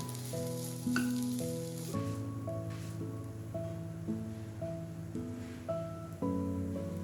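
Cabbage frying in a pan for chicken fried rice, a soft continuous sizzle like light rain, heard faintly beneath steady background music with distinct melodic notes.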